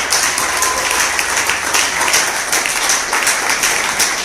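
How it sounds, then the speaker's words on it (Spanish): A church congregation claps together in sustained, dense applause, loud and steady throughout with no voices standing out. "Denle pues un aplauso al Señor"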